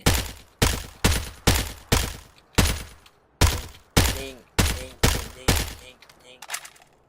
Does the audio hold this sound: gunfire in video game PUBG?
yes